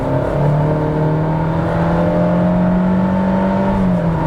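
Honda HR-V Touring 2021 accelerating at full throttle from 60 to 120 km/h, a steady loud engine drone with a tone rising slowly and simulated gear shifts, heard from inside the cabin without talk.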